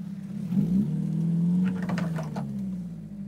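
Suzuki Samurai 4x4 climbing an off-road slope without four-wheel drive engaged; a close engine revs up and holds a strained, droning pitch, then eases back while clattering and scraping noises follow.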